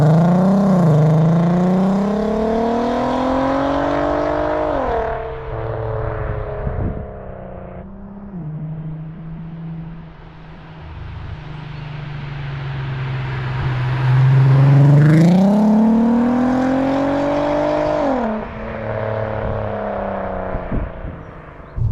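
A VW Golf R32 with a loud Scorpion exhaust revs hard twice, each sweep rising into a raspy roar and then falling back to a deep, burbling idle. The sound is close and continuous.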